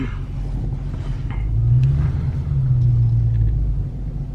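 A car rolls into a dealership's guest parking lot, its engine rumbling low and steady, swelling slightly as it moves, close and fairly loud with no talking.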